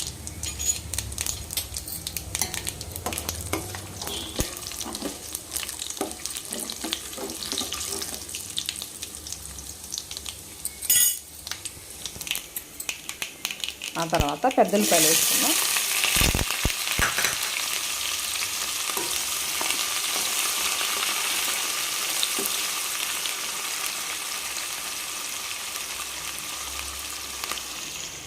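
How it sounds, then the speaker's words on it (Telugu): Tempering seeds — urad dal, chana dal, mustard seeds, dried red chillies and cumin — sizzle and crackle in hot oil for a beetroot and fresh coconut curry, a steady close frying hiss that swells loudly midway with stirring clatter and a brief spoken line. "ఆయిల్ కాస్త వేడెక్కగానే తాలింపు గింజలు వేసుకుందాం మినపప్పు శనగపప్పు ఆవాలు ఎండుమిరపకాయలు"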